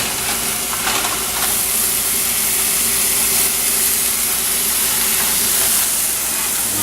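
Homemade chili is stirred in a hot pot, a loud, steady sizzling hiss filling the whole stretch with faint scraping underneath and no voices.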